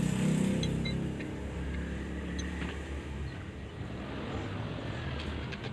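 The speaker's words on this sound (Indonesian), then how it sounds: "kita keluarkan dulu anginnya ya untuk membuka ban luarnya" Air rushes out of a deflated bicycle tyre's inner tube valve, a steady close broadband hiss lasting several seconds with a slightly stronger burst at the start.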